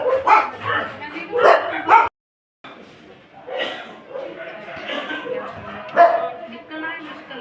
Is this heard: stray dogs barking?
yes